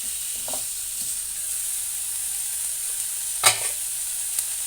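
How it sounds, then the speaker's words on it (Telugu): Fenugreek, coriander seeds and cumin fry in a pan with a steady, soft sizzle, broken by a few brief stirring scrapes. "ఇందులో మెంతులు, ధనియాలు, జీలకర్ర మంచి స్మెల్ ఇస్తుందండి వేగుతుంటే"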